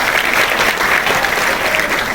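An audience at a career guidance talk breaks into loud, sustained applause to welcome a speaker, with many hands clapping close together in an even roar and faint crowd murmur underneath.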